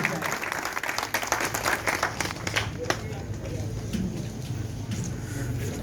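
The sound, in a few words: audience applause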